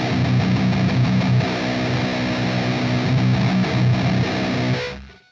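A heavily distorted, tight djent-style metal guitar riff from a Line 6 Pod Express Black runs loud and steady with chugging low palm mutes, then cuts off and decays at the end.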